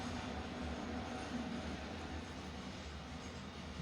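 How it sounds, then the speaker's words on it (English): A train passes at a distance, a steady broadband rumble with low clattering tones holding evenly throughout, fairly faint and without speech over it. "That is a train passing."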